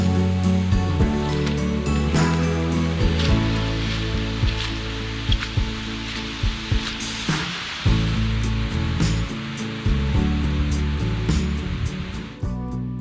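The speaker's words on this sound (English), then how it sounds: "we woke to a colorful forest surprise and the sound of rushing water nearby." Steady broadband rush of water flowing near a forest campsite on a rainy autumn morning, continuous and fairly close, with scattered soft knocks and taps over it and no talking.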